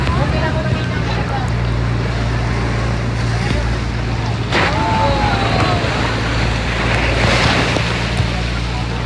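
Strong sea waves wash around a paraw sailing boat off Boracay, a loud, steady rush of surf and water with gusty wind buffeting the microphone and a low engine-like drone throughout, while people talk over it.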